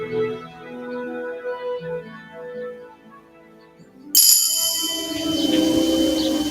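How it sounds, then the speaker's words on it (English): Bells ring out suddenly partway through after a quieter tonal stretch, their bright metallic tones sustaining and layering as they continue. "Bells ringing."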